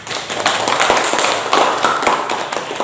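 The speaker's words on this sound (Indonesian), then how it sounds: "Beri tepuk tangan." A classroom of students claps for a group after a presentation, a dense, loud burst of many hands clapping close by, sustained for a few seconds.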